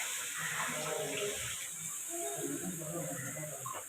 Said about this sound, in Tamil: இப்போது திக்கான 200 ml பால் சேர்த்துக்கலாம்.